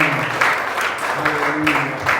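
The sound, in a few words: applause in church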